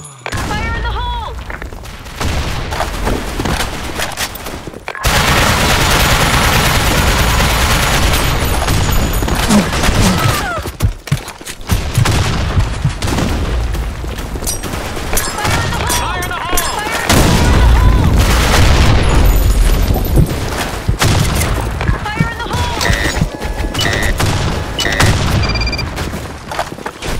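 Gunfire and grenade blasts from the shooter game BlackShot, with dense bursts of rapid shots and heavy booms stacked over loud in-game music and announcer calls.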